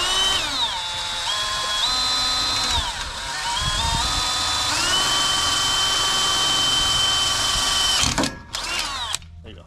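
Power drill boring holes into an aluminum jon boat, loud close whine that steps up and down in pitch across several pushes, then stops abruptly with a few short bursts at the end.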